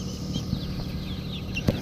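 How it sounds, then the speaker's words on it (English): Backyard chickens in a new DIY coop cluck softly in a few short bursts, one louder call near the end, over a steady low background hum. "The chickens are in their new house."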